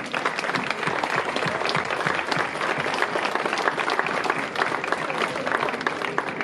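An audience claps steadily for several seconds at an outdoor summer inauguration ceremony in Arnay-le-Duc, dense and fairly close.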